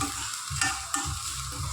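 Chopped onions sizzle with popped mustard seeds in a hot oiled pan, a steady close crackling hiss with soft scraping stirs and a couple of sharp pops.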